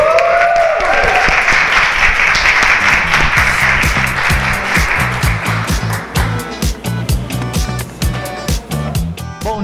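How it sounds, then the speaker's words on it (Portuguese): A large audience applauds to welcome a speaker at a lecture, with loud, dense clapping that fills the room and then thins into scattered claps as it fades. "Recebam com muitas palmas"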